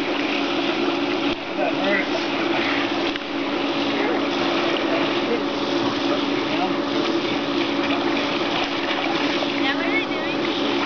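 Continuous churning and splashing of icy water as people swim during Arctic Enema obstacle training, a dense wash of water noise with faint voices in the background.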